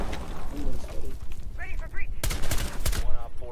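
Gunfire in the video game Rainbow Six Siege, with bursts of rapid shots crackling in and out under continuous excited talk from players.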